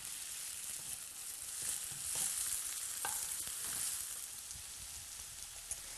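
Onion and ginger fry gently in a pan for a Thai-style green tofu dish, giving a steady soft sizzle with faint stirring scrapes throughout and no voices.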